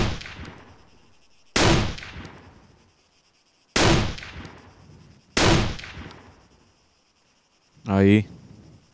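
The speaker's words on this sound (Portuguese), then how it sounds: "os primeiros tiros que eu ouço nessa partida." Four sharp gunshots ring out at spaced intervals, each with a decaying echo, followed by a brief rattling burst; a game-like background hum underneath, from an Arma 3 battle royale match.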